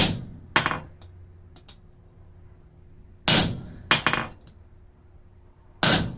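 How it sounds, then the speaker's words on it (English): A few sharp metallic hammer blows on a hot steel bar being forged into tongs, spaced irregularly with quiet gaps between strikes, loud and close. "go ahead and hammer straight down"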